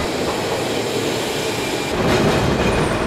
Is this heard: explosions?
no